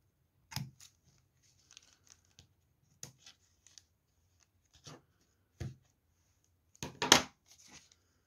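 Scissors snip through a paper bag in a few short, sparse cuts with crinkling paper between them, close by and quiet, the last cut longer and louder.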